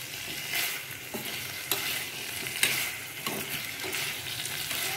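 Partridge curry masala stirred and sautéed in a pan, with a continuous close sizzle and a ladle scraping through it in repeated strokes.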